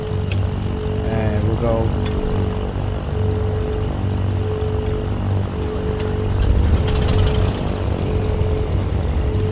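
A Cessna 414 Chancellor's right engine starting in Microsoft Flight Simulator, a steady droning propeller hum with a faint rising whine partway through, heard under a man's speech.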